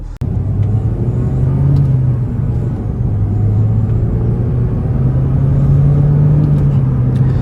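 A 2013 Mini Cooper S Coupe's engine holds a steady, loud rev near 5,000 rpm from inside the cabin, a continuous droning hum with slight rises and dips throughout and no talking.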